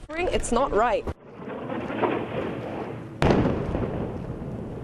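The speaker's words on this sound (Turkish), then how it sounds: "patlama sesleri yükselmeye devam etti" A voice speaks briefly, then deep rumbling explosion booms roll in over Gaza, with a sharper blast around the middle that sustains into a heavy roar.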